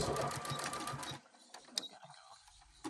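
A sewing machine stitches a bucket hat at a 1/4 inch seam, running in a quick rattling burst for about a second before stopping, followed by faint handling clicks.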